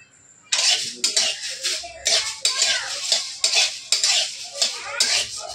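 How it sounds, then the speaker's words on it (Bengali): Coriander seeds dry-roasting in a pan for a fish curry spice mix, heard as rhythmic scraping and rattling strokes of a spatula against metal, each stir a distinct rasping burst at close range. "ধনেটা একটু ভেজে নিয়ে তারপরে এক এক করে দিচ্ছি দেখো।"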